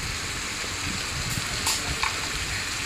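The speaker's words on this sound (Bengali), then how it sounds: "মশলাটাকে ভালো করে ভেজে নেব মশলার মধ্যে দিয়ে দিলাম হলুদ গুঁড়ো" Spice paste frying with turmeric powder in a pan, a steady broadband sizzle throughout with a few brief scraping stir sounds, close and moderately loud, no talking.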